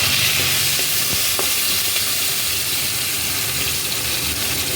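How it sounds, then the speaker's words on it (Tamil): Mustard seeds and curry leaves frying in sesame oil in a deep pan, making a continuous loud hissing sizzle with a few faint pops and stirring knocks, close and without speech. "நல்லெண்ணெய் அதனால் படகம் போட்டிருக்கேன் அடுத்து கருவேப்பிலை போடலாம்"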